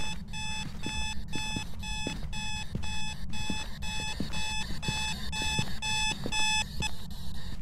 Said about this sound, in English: No alarms, please.